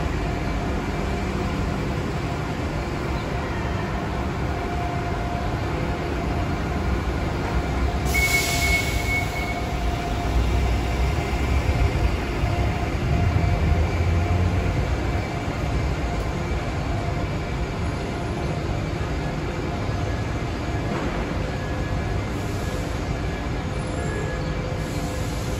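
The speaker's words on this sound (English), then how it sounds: "This is the train station, everyone." Trains at the Orlando Lynx station make a steady rumble of rail cars rolling past, with a brief high squeal of wheels partway through. No one speaks.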